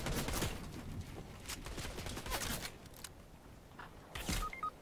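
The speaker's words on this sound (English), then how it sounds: "I just got sniped by this kid again" Sniper rifle shots crack through an online shooter game, a few sharp broadband bursts standing out at the start and near the end over a busy, moderately loud game mix.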